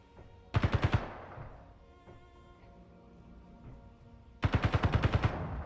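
Turret gunfire in the Space Engineers video game: two short rapid bursts of automatic shots, about six to eight rounds each, separated by a few seconds of quiet.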